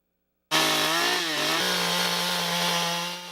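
A chainsaw starts up and runs loud and close at a holiday boutique craft show in a school, its steady buzzing engine droning alone with slight changes in pitch before easing off at the end.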